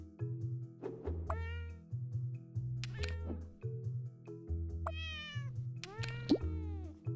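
A pet cat meowing repeatedly, several short rising and falling meows close to the microphone over a steady low pulsing background rhythm.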